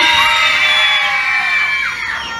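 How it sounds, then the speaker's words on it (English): A crowd of children screams and cheers at full volume at a beachside bar and grill show in Destin, Florida, a loud sustained roar that slowly tapers off. "On three, you're gonna scream as loud as you can if you wanna come down here with me."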